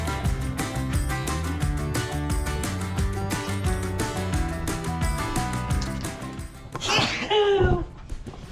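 One sharp sneeze comes near the end, close and loud, over steady background music that plays throughout.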